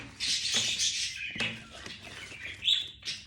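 Small birds chirping and tweeting outdoors, several bright high calls in short bursts and trills, close and fairly clear, with no talk over them.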